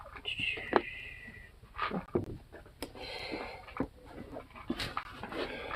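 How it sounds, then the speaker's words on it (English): A hungry dog whimpers and makes short excited vocal bursts close by, mixed with panting and soft rustling while a person whispers quietly nearby. "Dog is bloody loudmouth."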